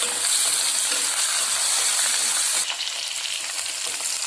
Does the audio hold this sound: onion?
yes